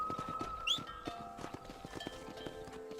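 Horse in the Red Dead Redemption video game, rhythmic clip-clop hoofbeats moving at a steady pace, with a brief whinny and faint game ambience.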